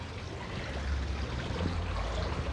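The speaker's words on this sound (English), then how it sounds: "Our upper falls is the he waterfall" A gentle garden waterfall, the lower falls at a tea house, splashes and trickles steadily, a soft continuous rushing of water without voices.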